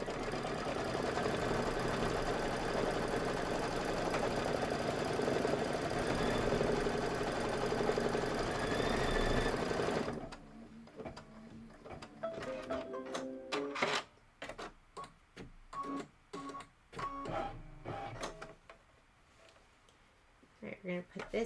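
An embroidery machine stitches a flower placement line, its rapid mechanical stitching chatter coming in bursts after a long stretch of steady, dense noise, with short pauses between runs.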